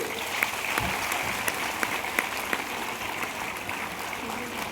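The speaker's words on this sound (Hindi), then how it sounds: "ये तालियां छोटे बच्चों के लिए है" Audience at an army cantonment in Jalandhar applauds for small children at a road-safety event, a steady wash of clapping with a few sharper claps standing out, moderately distant and continuous throughout.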